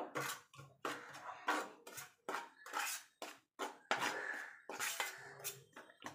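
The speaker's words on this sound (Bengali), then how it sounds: "এবারে এগুলো ভালো করে মিশিয়ে নেব।" A spoon clinks and scrapes in a bowl as soft eggplant slices are tossed with chaat masala and poppy seeds for an oil-free brinjal fry. Close, repeated bursts of clatter with brief pauses between strokes, and no talk.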